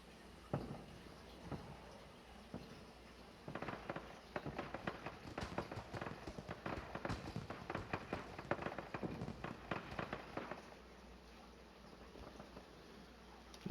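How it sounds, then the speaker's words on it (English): Small fireworks show at a sport complex: a dense run of sharp crackling pops and bangs, fairly close, bursting in irregular clusters for several seconds before thinning out, with no voices. "It's just a little small little fireworks show"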